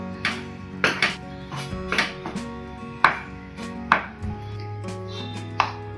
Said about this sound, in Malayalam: ഇനി ഇത് നമുക്ക് നന്നായിട്ടൊന്ന് ഇളക്കി കൊടുക്കാം.